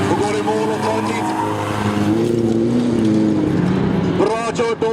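A folkrace car roars toward the finish line at a Luleå folkrace, its loud, strained engine note rising and falling steadily through the whole stretch. A commentator's voice runs over it.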